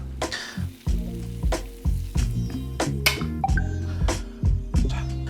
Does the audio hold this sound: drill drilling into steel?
no